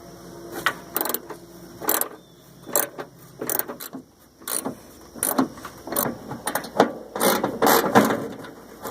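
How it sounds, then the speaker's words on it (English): A hand ratchet clicks in quick, uneven runs while loosening 13mm bolts from underneath the fender of a 1962 VW Beetle, close and clear with short pauses between strokes. "Now there's 9 13mm bolts that I have to remove from underneath."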